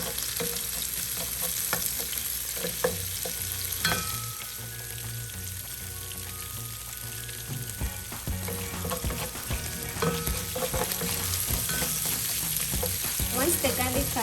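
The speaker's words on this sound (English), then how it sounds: "add some of the garlic ginger paste. Allow this to cook for a few minutes." Garlic ginger paste fries in a pan for spaghetti with minced meat: steady bright sizzling with frequent clinks and scrapes of a stirring utensil, with music faintly underneath.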